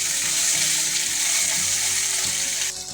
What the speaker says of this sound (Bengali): এবার আমি দুটো মিডিয়াম সাইজের পেঁয়াজ কেটে রেখেছি, এটা আমি দিয়ে দেবো। আর মনে হচ্ছে আমি এটা হালকা করে ভাজবো